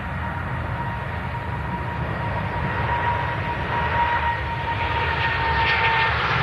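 An Etihad Boeing 777 spools up its engines for departure, a loud steady jet roar with a rising whine that grows slightly stronger over the clip, heard from a plane-spotting vantage point.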